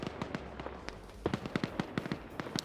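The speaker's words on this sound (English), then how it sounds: "Neko's just shooting." Gunfire from a PvP shooter match crackles in rapid, uneven bursts of sharp cracks, mid-distance and moderately loud, with no one speaking over it.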